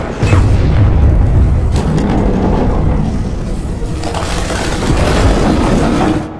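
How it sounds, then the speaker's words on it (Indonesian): A mortar fires and explodes in a Soviet-versus-German war film battle scene, a long, loud, rumbling boom with a sharp crack near the middle and a second surge of blast noise toward the end. "Igora pun menggunakan senapan Scout untuk menembak mortir sebelum tank-tank Jerman berhasil"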